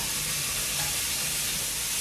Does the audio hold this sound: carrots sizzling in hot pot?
yes